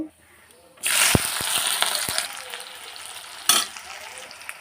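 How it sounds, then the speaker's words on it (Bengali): Chopped onion hits hot oil, spiced with whole cardamom, cinnamon and cloves, for mutton biryani: a sudden loud burst of sizzling with a few spatula knocks, settling into a steady fry with another surge near the end. "পেঁয়াজটা আমি লাল লাল করে ভেজে নেব"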